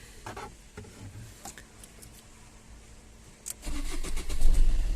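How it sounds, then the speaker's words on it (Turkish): Fiat Doblo car engine cranking and catching near the end, then running loudly and steadily, after a quieter stretch of faint background sounds. "Bakın aracımız gayet güzel çalışıyor."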